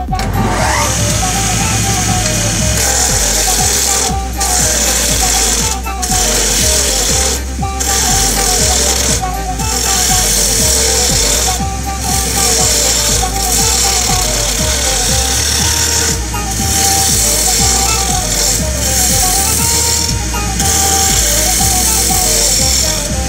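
Metal lathe turning, a cutting tool shaving rotating surfaces in a workshop; a loud, steady machine drone runs throughout with rhythmic periodic bursts of cutting, close and continuous.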